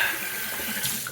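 Bloom water from an Omega boar shaving brush poured into a cupped hand, a steady close trickle and splash of liquid lasting about a second, with no voices.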